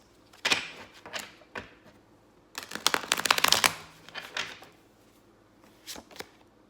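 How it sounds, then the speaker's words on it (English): Tarot cards are shuffled hard in irregular bursts of papery slaps and rustles, with a dense flurry in the middle and scattered quieter taps around it. "Good hard shuffle."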